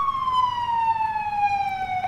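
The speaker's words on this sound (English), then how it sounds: "with this update, it has this little smart panel for the PD, so you can change the siren tones" A police car siren in the EmergeNYC video game wails steadily at close range, a single drawn-out tone sliding slowly downward with bright overtones, loud and alone with no talking.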